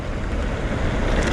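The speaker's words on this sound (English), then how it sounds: "This is about the most wind I'll ever get." Wind buffeting a helmet-mounted GoPro Hero 7 during a mountain bike ride, a loud continuous rumbling roar with no voices.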